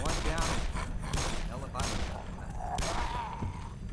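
Gunfire in the video game Black Mesa, several bursts of loud, close shots in quick succession over a constant background din, with voices mixed in.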